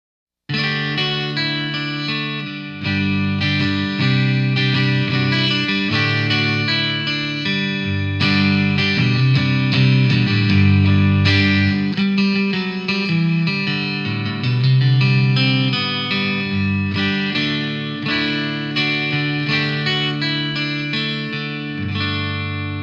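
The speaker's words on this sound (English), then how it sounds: "it gets a really great acoustic guitar sound through an electric guitar amp" Les Paul Ultra 2 electric guitar fitted with a NanoMAG pickup, played through an electric guitar amp for an acoustic-like tone: steady strummed chords and picked notes with bright ringing harmonics, continuous and loud, with no talking.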